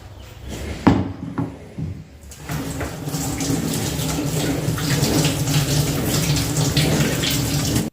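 Tap water running steadily into a kitchen sink while stone kitchenware, coated overnight with turmeric and oil, is washed, a few clunks of handling first, then a continuous close splashing flow.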